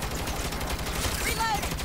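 Rapid gunfire from the Saints Row (2022) video game, a dense continuous burst of shots at moderate loudness with a brief whistling sound effect near the end.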